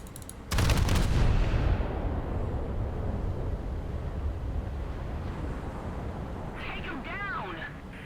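Naval gunfire in the War Thunder video game, aimed at the cruiser Atlanta: a sharp, heavy cannon blast opens into a long rumbling decay, with a voice speaking over the tail.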